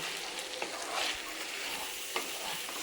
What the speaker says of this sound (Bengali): লঙ্কার গুঁড়ো দিয়ে দিলাম হলুদের গুঁড়ো দিয়ে দিলাম নুন দিয়ে দিলাম এবার আমি ভালো করে কষিয়ে নেব